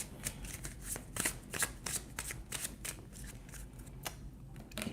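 Tarot card decks are shuffled in a quick, close, soft flurry of papery riffles and flicks, continuous and quiet with no talking.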